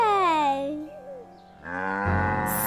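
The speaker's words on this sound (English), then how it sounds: "Shall we show the cow, Wooly? Look, Wooly. Funny cow." A cartoon-style cow moos in two drawn-out calls separated by a short pause, loud and close.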